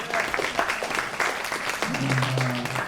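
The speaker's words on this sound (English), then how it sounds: "Let's have a round of applause for Art Haven." Audience applause at a college jazz band spring concert following a trombone solo, sustained clapping from the crowd with a speaking voice and a brief held tone rising over it near the end.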